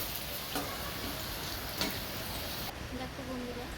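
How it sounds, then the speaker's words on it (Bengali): Potatoes fry in hot oil for a Bengali papad curry, giving a steady broadband crackling sizzle throughout with a couple of faint ticks and a slight drop in brightness near the end. "তো আলুগুলোকে আমরা ওই তেলের মধ্যেই ভালোভাবে লাল লাল করে ভেজে নেব।"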